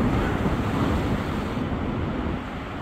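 Storm-swollen sea surf rolls onto the central beach at Anapa in February as surfers ride the waves, a loud, continuous wash and roar buffeted by wind noise, easing slightly near the end.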